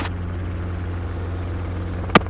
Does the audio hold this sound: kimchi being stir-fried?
no